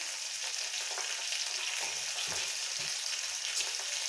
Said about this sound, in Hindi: तो इसे एक बार ऐसे पहले अच्छे से मिक्स कर दें ताकि जीरा और हींग की कोटिंग सारे तोरी में अच्छे से आ जाए